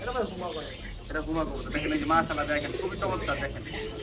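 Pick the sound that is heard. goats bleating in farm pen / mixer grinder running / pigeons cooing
pigeons cooing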